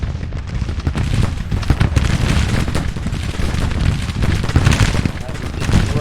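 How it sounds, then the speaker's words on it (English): Heavy gunfire and artillery roar through a Grand Tactician Civil War battle set in 1863, a loud, continuous barrage of overlapping musket volleys and booming cannon with no letup. "That's a lot of gunfire going on."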